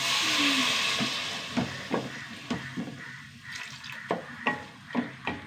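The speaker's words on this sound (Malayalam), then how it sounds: "കുറച്ച് വെള്ളം ഒഴിച്ച് കൊടുക്കട്ടെ" Water poured into a pan of spice-coated tomato curry, a brief hissing rush followed by a series of sharp bubbling pops and splashes close by.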